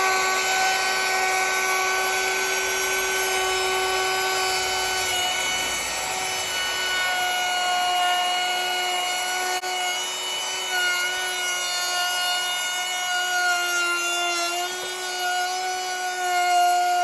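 Router fitted with a 1/2-inch round over bit cutting along a wooden handrail, giving a steady, continuous high-pitched whine with constant loudness throughout and no speech.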